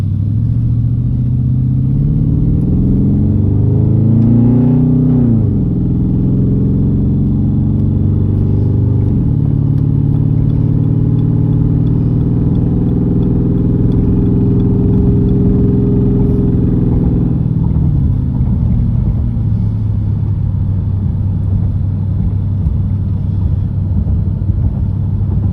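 Deep, droning exhaust of a 2013 Jeep Grand Cherokee 5.7 with a Cherry Bomb exhaust, heard inside the cab with the windows up: steady low rumble with rising and falling revs, loud and continuous throughout.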